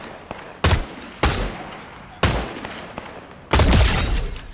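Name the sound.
gunfire in a video game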